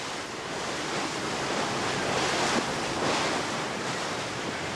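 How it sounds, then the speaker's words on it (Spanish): Sea surf off the coast of La Gomera heard from a boat, where deep blue water strikes steep rocky cliffs: a steady, loud wash of breaking waves with gusty wind noise, no voices. "la mar se agita y golpea fuerte contra los roquedales que a pico se derrumban sobre unas aguas de un azul intenso"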